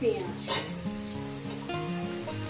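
Potatoes and taro stolons frying in a pan over a medium gas flame, a soft, steady close sizzle with a few faint stirring scrapes and no talk.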